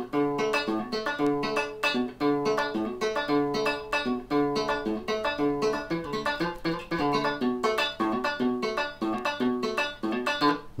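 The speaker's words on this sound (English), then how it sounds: "the novelty factor of using toilet roll to get that sound is pretty cool" Guitar with toilet roll woven between the strings for a banjo-like tone, played as a brisk, steady fingerpicked pattern of short, plucky notes, close and continuous without talk.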